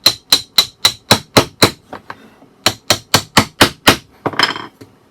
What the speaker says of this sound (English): We tap it lightly.